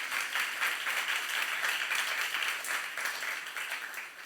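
A church youth service congregation breaks into applause during a sermon, a sustained wash of many hands clapping at moderate distance, fading slightly toward the end.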